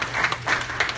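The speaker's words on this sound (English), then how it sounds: "Round of applause." An audience at a public safety forum breaks into applause, dense close clapping that fills the whole brief moment.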